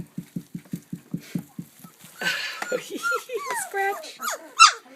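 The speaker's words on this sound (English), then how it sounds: "What you barking for?" A chocolate Labrador puppy makes a fast run of short, soft yips, then whiny squeaky squeals and whimpers, all close by with no voices over them.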